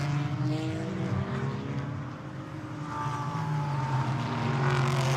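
GT4 race cars at the Misano circuit roar past in a continuous loud engine drone with shifting pitch, several cars overlapping close by.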